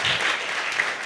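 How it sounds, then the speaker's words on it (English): An audience at a mathematics competition award ceremony claps for a deputy head of a lower basic school, a brief, even patter of applause lasting about a second. "Can we clap for her, please?"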